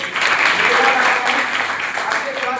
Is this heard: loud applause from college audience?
yes